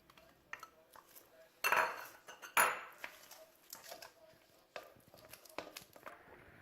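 Cream cheese and soft butter being mixed in a bowl for cinnamon roll icing, heard as quiet utensil clinks and scrapes against the bowl, with two louder clatters early on and scattered smaller taps after.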